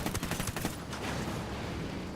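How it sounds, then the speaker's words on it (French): Machine gun fire in the Ghost Recon Wildlands game: a rapid, loud burst of shots over the first second, followed by a dense rumbling wash of combat noise. "Ah, la mitrailleuse."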